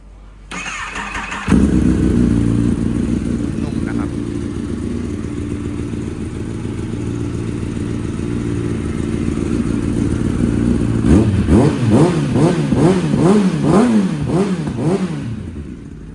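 A 2018 Kawasaki ZX10R motorcycle fitted with a Brief Japan G1 exhaust starts up with a starter whir, settles into a loud, rough idle, then revs in several sharp rising and falling blips near the end, very close.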